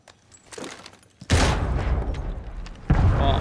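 Grenade blasts in the game Chalet: a faint thud early, then a loud booming explosion that rumbles on, followed by a second heavy blast near the end.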